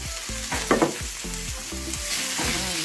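Tomatoes sautéing in a pan, a steady loud sizzle broken by repeated scraping stir strokes in a quick, uneven rhythm, close and with no voices.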